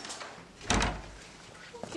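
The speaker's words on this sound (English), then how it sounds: "This is a weird door." An unusual door is opened, giving one loud thudding rattle near the middle of the moment, then quieter creaks, with people's voices nearby.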